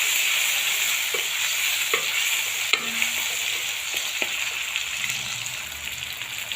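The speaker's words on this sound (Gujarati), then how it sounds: "થોડુંક શેકી લઈશું ટામેટાને।" Tomato sizzles and fries steadily in a hot pan with chillies and garlic, a continuous close crackle broken by occasional utensil taps and stirring scrapes.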